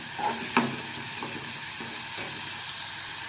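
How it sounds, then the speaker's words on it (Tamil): Onions sauté in a pan over a medium flame with a soft, steady sizzle, broken by a few light scraping stirs near the start. "ஸ்டவ் மீடியம் ஃப்ளேமில் வச்சு வெங்காயம் வந்து ஓரளவு நார்மலாக வதங்கட்டும்"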